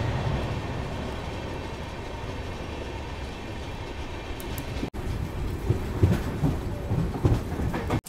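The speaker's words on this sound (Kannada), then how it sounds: "ಬೆಂಗಳೂರು ಜನಶತಾಬ್ದಿ ಎಕ್ಸ್ಪ್ರೆಸ್ ಬಂದೈತೆ ರೀ ಈಗ ರಾಣಿಬೆನ್ನೂರಿಗೆ" The Bengaluru Janshatabdi Express passenger train pulls into Ranebennur station on the Hubballi to Bengaluru route. A steady low rumble gives way to louder rhythmic wheel clatter and clunks as it comes in.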